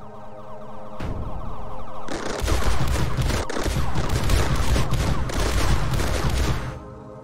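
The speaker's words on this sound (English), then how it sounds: "They're pretty much shotguns. They're fucking shotguns." Shotgun units in the strategy game Mindustry fire in rapid, dense bursts of overlapping blasts, loud and continuous for several seconds after a brief lead-in hum, then stopping abruptly.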